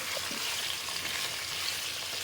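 Chicken adobo seasoned with pepper frying in a pan, a steady soft sizzle with faint scraping as it is stirred, close and continuous with no talking.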